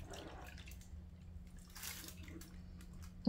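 Water trickles and splashes softly as it is poured over seasoned food in a home kitchen, a faint continuous pour ending in one small drip-like plop.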